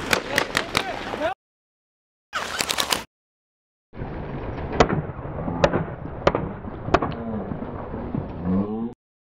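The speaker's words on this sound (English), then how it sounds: "we could hear the same burst of gunshots" A burst of sharp gunshots cracks out during a police raid in the Bedouin village of Umm al-Hiran, several loud reports about a second apart amid voices, with the recording cutting in and out before them.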